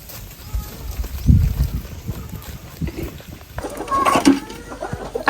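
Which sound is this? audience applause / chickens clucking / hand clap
chickens clucking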